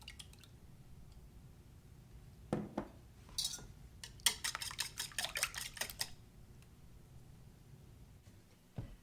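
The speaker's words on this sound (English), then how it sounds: "I'm going to whisk together 4 eggs." Four eggs are whisked in a bowl for an Italian Easter pie filling. A burst of rapid, wet clinking strokes against the bowl follows a few scattered taps and clinks. It is fairly close and quiet, with no talking.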